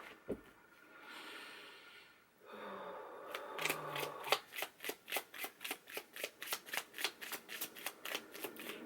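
Tarot cards are shuffled close up. A soft rustle and a couple of light taps lead into a fast, rhythmic riffle of about fifteen crisp flicks, with no talking.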